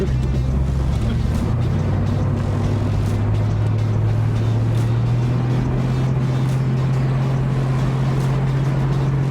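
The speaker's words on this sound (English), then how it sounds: "We're about to shift up some gears in this thing." A 1979 Pontiac Trans Am engine drones loud and close, its pitch climbing steadily as it runs up through the gears.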